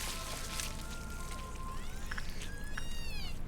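A baby cries in the video game Lobotomy Corporation, with thin wailing tones rising and falling over a steady, faint background wash.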